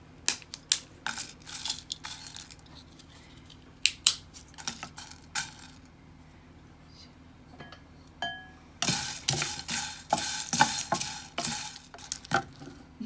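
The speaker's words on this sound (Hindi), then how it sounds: "ये हम मीडियम लो आंच पे बना रहे हैं। बस थोड़ी देर इसे ड्राई रोस्ट करना है।" Whole black peppercorns and cloves stirred and roasted dry in a pan over medium-low heat for homemade tandoori masala, giving a scattered rattle of clinks and scrapes that eases off midway, then returns in a dense, busier stretch.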